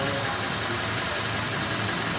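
Mitsubishi Strada pickup engine idling high with an unstable idle, a steady close mechanical drone with a faint ticking texture and no voices.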